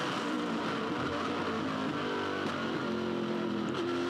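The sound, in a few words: V8 Supercar engine revving hard during race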